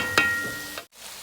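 Chopped tomatoes sizzle in a wok while chicken karahi cooks, with a soft steady frying hiss, a couple of brief scraping stirs, and a sudden cut near the end.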